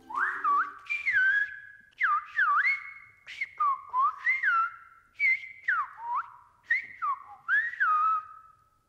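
Silbo Gomero, the whistled language of La Gomera, sounds as a greeting in a series of clear, close whistled phrases, each rising and falling in pitch, with brief gaps between them.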